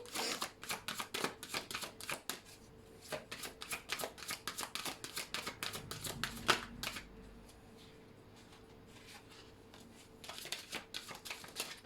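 Tarot cards are shuffled in rapid riffling bursts, close and crisp, pausing for a few seconds before the flicking resumes.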